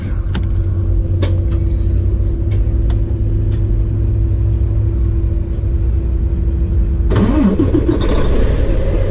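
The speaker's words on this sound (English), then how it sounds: "we're going to start the truck." A truck's engine cranks and catches after a steady idle-like hum with faint clicks, then roars into a loud, rumbling start near the end, close and dominant.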